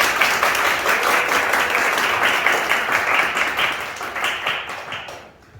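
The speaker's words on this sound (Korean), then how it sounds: "박수 한번 쳐주시겠습니다" Church gathering audience claps together indoors, a lively, even burst of many hands that holds strongly before thinning out and fading to quiet at the end.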